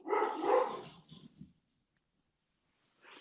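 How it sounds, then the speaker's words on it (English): Dogs bark in a loud, close burst of overlapping barks, followed by a few softer yips, then a silent pause before barking starts up again faintly at the end. "the dogs are going crazy"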